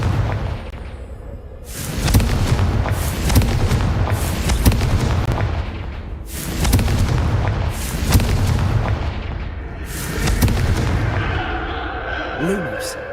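Confringo blasting spells explode repeatedly in Hogwarts Legacy, loud booming bursts recurring every couple of seconds over a dense, continuous game soundscape.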